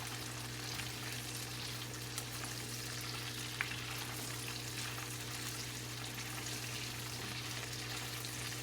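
Small forest bitter gourds frying in a pan give off a continuous, even sizzle with a faint steady hum underneath and a couple of tiny ticks, no voices.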